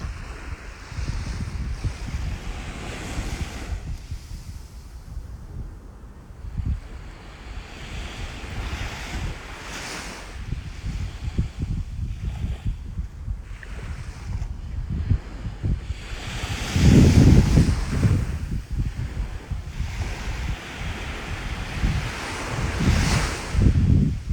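Ocean waves wash in and out, with gusts of wind buffeting the microphone and a louder surge of surf midway.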